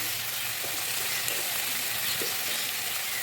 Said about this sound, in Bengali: লাল লঙ্কার গুঁড়ো দিয়ে ভালো করে মশলাটা আমি কষিয়ে নেব